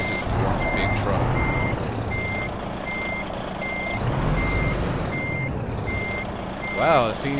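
A big Cat CT660 truck in American Truck Simulator reverses with a regular series of evenly spaced electronic beeps over a low diesel engine drone, with a brief hiss of air brakes near the end.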